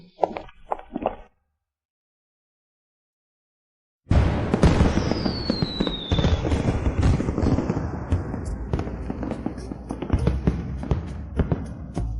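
A fireworks show sounds after a silent gap as a continuous dense barrage of booms and crackles with a rising whistle, loud and sustained, with no talk over it.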